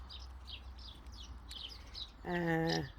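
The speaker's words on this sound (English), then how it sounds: "Busy little place with birds here." Small birds chirp repeatedly in a garden where hundreds are fed, quick high tweets at a steady pace over a low rumble, with a brief voice-like tone near the end.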